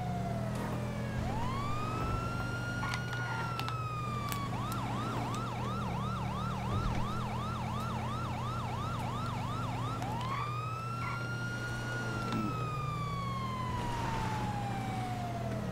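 Police car siren in a video game, wailing and rising and falling, then switching to a rapid yelp before returning to a slow wail, steady over constant engine and road rumble.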